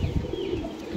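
Rooftop loft pigeons coo in a short, low throaty burst, close and fairly loud, with no voices over it.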